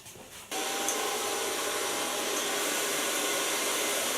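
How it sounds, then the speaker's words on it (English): A hair dryer switches on after a brief quiet start and then blows with a steady, loud whoosh while a medium brush works through an asymmetric bob during the blow-dry. "I start blow drying with a medium lice brush."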